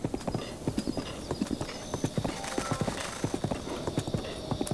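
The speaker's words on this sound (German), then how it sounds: "Ich darf jetzt auch gerne mal etwas schneller galoppieren." Rapid hoofbeats of a horse galloping in the video game The Legend of Zelda: Breath of the Wild, steady and close, with a busy ambient background and faint voices underneath.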